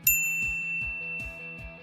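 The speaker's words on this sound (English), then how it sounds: "ring the bell to get notified about our latest videos" A bright notification bell dings once at the start, its clear high tone ringing out over a quiet rhythmic low pulse that repeats several times underneath.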